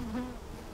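Honey bees buzz steadily in a cup or jar while they are gathered for an alcohol wash varroa mite test, a short close continuous hum with no talking.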